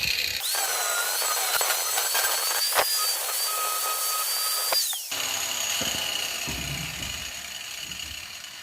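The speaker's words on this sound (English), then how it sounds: "Maybe I need to switch to a grinder blade." Handheld grinder cutting metal for a homemade vise differential holder, a loud high steady whine for several seconds that drops off, followed by quieter scraping and handling noise.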